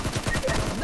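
A gun fires a rapid burst of shots in the PUBG Mobile game, a quick string of sharp cracks with faint voice-like sounds behind them.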